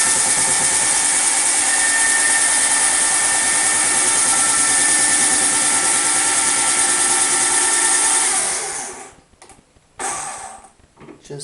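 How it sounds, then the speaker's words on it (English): A cordless drill whirs steadily and loudly while a Taig CNC lathe is being assembled, a continuous high whine for about eight seconds that then cuts off, followed by brief intermittent bursts. "to make it a little faster you can use a cordless drill"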